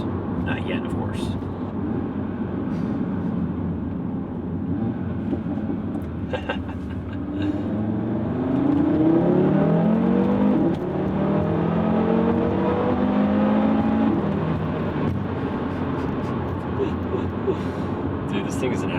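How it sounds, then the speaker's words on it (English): A modified Audi RS3 with a five-cylinder engine, Unitronic Stage 1+ tune and factory sport exhaust hums and rises through a revving pull under someone talking throughout, with the engine note climbing midway. "a little bit more definition from those crackles and pops with the factory sport exhaust"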